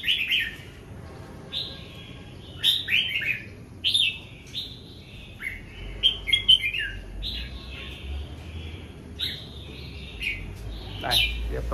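Songbirds in a bird-keeping setting sing a series of bright, high chirps and trills, loud and close, with short warbled phrases repeating throughout over a faint background rumble.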